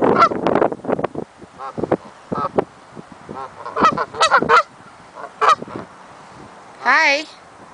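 Several geese honk close by in a noisy run of calls, then pause, followed by a final loud wavering honk.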